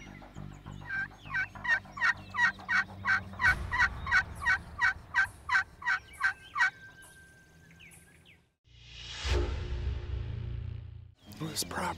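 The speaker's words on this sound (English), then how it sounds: "That bird's still gobbling out there." Wild turkey in Ohio hunting country gobbles in a long rapid series of loud rattling calls, followed by a burst of rustling or wind noise and a low murmur of voices.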